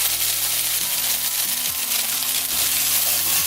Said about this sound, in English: so this is pretty much cooked. You can see it's getting kind of crispy. on some of the edges.